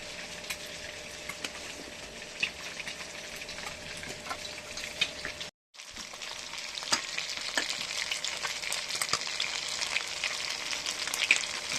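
Fish frying in a pan gives a steady close sizzle with scattered sharp crackles and pops, running continuously apart from one brief cut to silence midway, with no voices.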